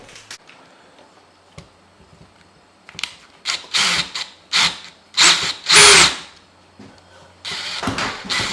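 A power drill drives screws in short, loud bursts, about half a dozen spaced over several seconds, while a new light fixture goes up in a fixer-upper house; no talk.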